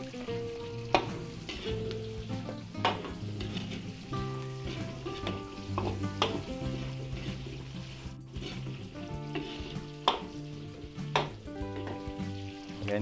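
Garlic sizzling and frying in a pan with browned meat for a Filipino dish, a steady crackling sizzle with occasional sharp stirring clatters, close and fairly loud with no talking.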